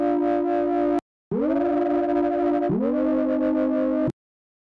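Serum synth bass run through a distortion effect plays three sustained, gritty buzzing notes with bright harmonics and a short gap after the first, loud and alone.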